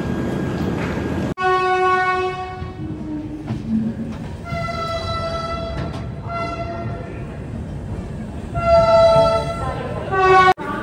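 Jhelum Express passenger train running from Pune to Jammu, with a steady rumble of wheels and carriages, bright horn-like tones sounding repeatedly through the clip, and a sharp break near the start and end.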